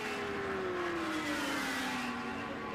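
Racing motorcycles roar around the Pannonia Ring circuit in Hungary during an Alpe Adria championship race, a steady loud engine drone with a slowly falling pitch as bikes pass, continuous throughout.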